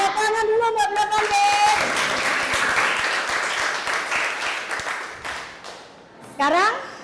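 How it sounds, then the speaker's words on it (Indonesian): Classroom applause for pupils of class 8B at a junior high school in Surabaya, a burst of many clapping hands that swells, then fades out as a voice and shouts break in. "Tepuk tangan dulu buat 8B."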